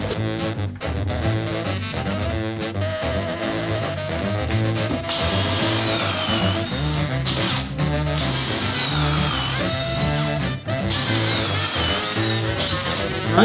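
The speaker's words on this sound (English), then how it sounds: "Not even like you're drilling, it's just like you're poking a hole in the wood." A power drill bores through wood with a steady whirring grind that rises and falls over several passes, fairly close, with little talk.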